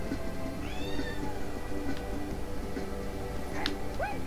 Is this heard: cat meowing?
yes